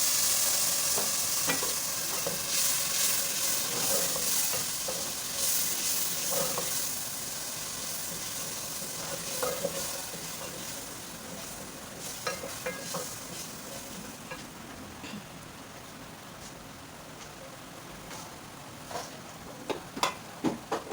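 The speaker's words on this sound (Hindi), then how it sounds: "इसमें हमने टमाटर, प्याज, हरी मिर्चें पीसी है, ये भी डाल देते हैं।" Ground tomato, onion and green chili paste fries in a pan with a loud steady sizzle that gradually softens, punctuated by sharp ticks and clinks of stirring toward the end, no talk.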